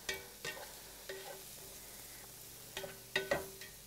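Beef, spinach and mushroom patties fry gently over low heat in a pan, giving a soft steady sizzle broken by several short scraping and clattering bursts, fairly quiet and close with no talking.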